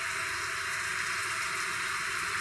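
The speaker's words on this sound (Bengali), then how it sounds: "আমি অলরেডি বেরিয়ে পড়েছি বৃষ্টির মধ্যে" Rain pours outside a house onto a waterlogged yard, a dense, even hiss of steady rainfall with no pauses or voices.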